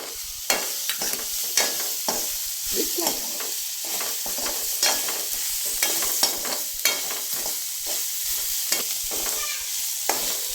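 Whole spices roasting and frying in a pan for paneer masala, with a steady broadband sizzle under repeated scraping stir strokes at an irregular rhythm, close and clear throughout with no talking.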